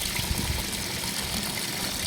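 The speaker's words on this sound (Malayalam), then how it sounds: "പൊടി ഇട്ടതിന് ശേഷം ഇതിനെ എടുത്ത് ഇവിടെ വെച്ച് വെള്ളം ഇങ്ങനെ ഒഴിക്കുക." Water poured into a container over detergent powder for washing clothes, making a steady rushing splash that stays loud and close without pause.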